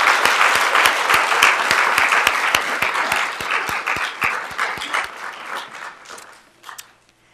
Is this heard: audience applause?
yes